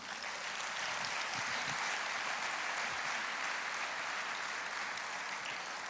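A church congregation claps continuously, a thick, steady roar of many hands filling the room for six seconds at an even level, with no speech over it.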